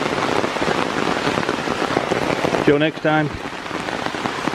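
Steady summer rain patters across a wooded nature preserve on the Ohio River bluffs, a constant dense hiss close around the listener, with a brief spoken voice cutting in near the end.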